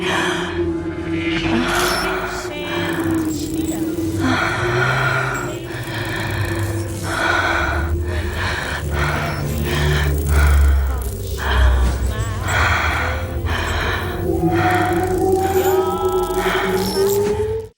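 Heavy, breathy panting and gasps from a Watchmen (2009) film scene, continuous and fairly loud over a low droning music bed, with some muffled voices mixed in.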